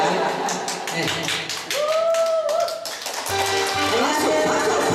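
Applause at a performance in a care hospital, with scattered clapping and taps rising and falling under a person speaking over a microphone.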